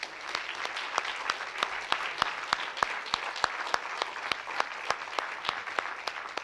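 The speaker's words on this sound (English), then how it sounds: "give yourselves the biggest round of applause" Conference attendees clap after a keynote, a fairly quiet, sparse applause with distinct individual claps standing out in a steady rhythm over a soft wash of hand noise.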